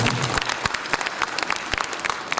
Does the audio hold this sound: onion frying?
no